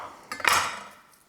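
A knife chops through broccoli stems on a cutting board during home meal prep, with a couple of sharp close knocks and a thud that rings out briefly in a quiet kitchen.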